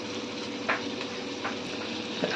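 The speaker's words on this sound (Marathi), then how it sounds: "चला याला आता पाच मिनिट फ्राय होऊ द्या" Fish steadily sizzling and crackling in hot oil in a pan, a dense close hiss with a few brief louder pops, no voices.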